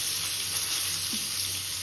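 Pointed gourd fries in a pan with a steady, close sizzle that holds evenly throughout and is unbroken by any voice.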